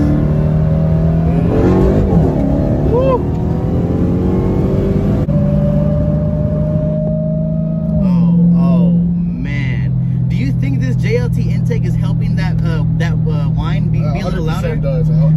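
A 2020 Dodge Hellcat Charger with Stainless Works catless mid pipes revs and accelerates with a loud, droning roar. The pitch climbs, then shifts and settles, and voices talk over the engine throughout.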